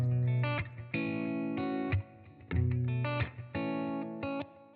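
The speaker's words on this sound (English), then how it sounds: "Let's go for a resonant ping pong." Guitar played through a resonant ping pong delay effect with distortion, sustained chords ringing out in separate phrases with echoing repeats, loud and up close with no talking.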